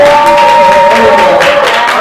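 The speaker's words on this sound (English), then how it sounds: "Let's get that round of applause up loud." A crowd at a slam poetry night in a Denver studio claps and cheers loudly, a dense wash of applause with whoops and shouts over it.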